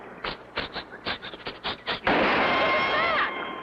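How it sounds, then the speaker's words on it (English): Cartoon gunfire aimed at a small plane over a deserted beach: a rapid string of sharp, loud shots, then a dense sustained roar of firing with a rising whine, close and alone without talk. "Someone's shooting at us."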